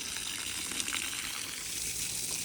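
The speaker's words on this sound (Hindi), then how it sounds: "यानी कि पौधों को पानी लगा रहे हैं।" Water flowing from a hose or pipe onto plants in a village garden after a flood in Pakistan, a steady close gushing rush that stays constant throughout with no talking.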